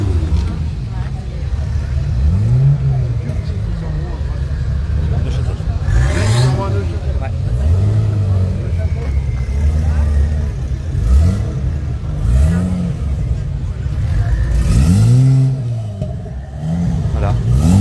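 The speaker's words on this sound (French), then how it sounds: "Ah, voilà, il y a des Alpines A310 qui arrivent." Alpine A310 sports cars arrive and rev at an Alpine gathering in Dieppe, with repeated engine swells rising and falling nearby as someone talks over them throughout.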